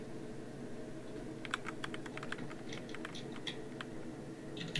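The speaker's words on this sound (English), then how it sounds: "I'm typing." Quick, uneven keystrokes tapped on a computer keyboard sound in short bursts over a steady low background hum, fairly close, with no talking.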